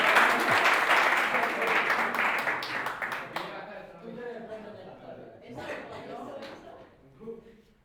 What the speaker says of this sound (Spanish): Venga, chicos, aplaudirla